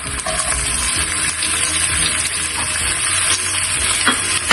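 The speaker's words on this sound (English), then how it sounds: "We're now going to saute it for a couple of minutes" Garlic, ginger and onions sauté in a hot pan for a penne pasta dish, giving a steady, close sizzle and crackle that runs unbroken the whole time with no talking.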